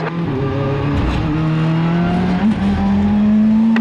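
Race car engine at full throttle on the Barcelona circuit, a loud, steady roar whose pitch climbs smoothly as it accelerates, close and continuous throughout with no talk.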